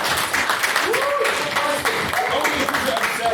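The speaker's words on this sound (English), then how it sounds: "He gets a clap for ringing the bell." An audience claps at a university debate, a steady wash of applause mixed with crowd voices and chatter throughout.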